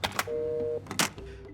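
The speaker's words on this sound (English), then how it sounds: "if you actually go and interact with them and pick up the phone, listen to it, it sounds like there's a phone off the hook" A telephone in the Call of Duty Warzone video game sounds an off-the-hook tone, with steady electronic beeps broken by clicks and handling noises, heard close.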